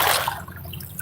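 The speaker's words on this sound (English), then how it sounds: "These waves are big." Waves wash and splash onto the shore beside a fishing spot, a loud close rush of water that swells and settles across the moment, with a low rumble of wind underneath.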